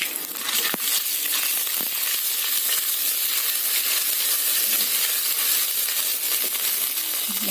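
Cumin seeds and ginger garlic paste fry in hot oil for moong dal kichadi, a steady, loud, close sizzle with a couple of small clinks, no voices.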